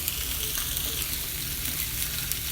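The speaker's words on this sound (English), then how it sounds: "Okay, so the salmon now is on the grill." Wild salmon sizzles on a grill in a steady, even hiss of frying that stays constant and close throughout, with no voices.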